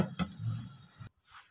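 Masala okra (bhindi) sizzling gently in a pan on a low flame, a soft steady frying hiss for about a second before cutting off, leaving a faint quieter tail.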